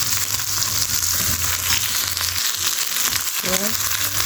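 Shallow frying in reused oil, a continuous bright sizzle and crackle filling the whole clip at close range, with a brief clink of utensils near the end.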